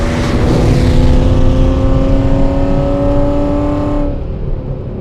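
A BMW with a 3.5 litre engine accelerates hard in manual mode, its loud, close engine note climbing steadily in pitch as revs build, then easing off near the end.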